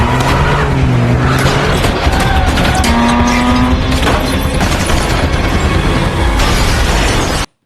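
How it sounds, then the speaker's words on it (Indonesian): In a film action scene, a luxury car speeds away under heavy gunfire. Roaring engine, squealing tires and bursts of shots blend into a loud, dense, continuous clash that ends abruptly. "Lalu kabur menggunakan sebuah mobil mewah yang ada di ruangan itu sambil terus ditembaki oleh banyak anak buah Hagen."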